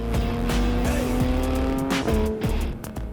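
A late-model Porsche 911 GT3 sports car drives hard, its engine loud and close, with rising and falling revs, gear changes and brief tire squeals.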